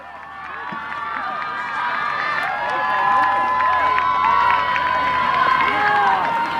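Spectators at a Vermont state Division I softball final between BFA and MVU cheer and shout loudly, with whistles and excited voices rising over a sustained crowd roar.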